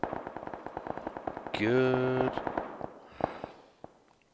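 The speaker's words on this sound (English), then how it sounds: "That is a lot of gunfire." Rapid bursts of gunfire in the video game PUBG: Battlegrounds crackle in a fast, steady rhythm, briefly interrupted by a sustained tonal blare, then scattered shots; a voice speaks briefly.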